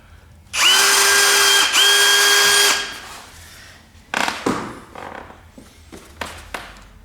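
A cordless drill whines loudly at steady speed for about two seconds with a brief dip midway, then stops, followed by scattered clunks and taps, during restoration of an 1865 Forster & Andrews pipe organ.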